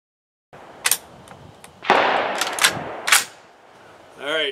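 Shots from a Browning BAR Mark II Safari rifle outdoors come as several sharp cracks spaced about a second apart, each leaving a short rumbling tail, and a voice follows at the very end.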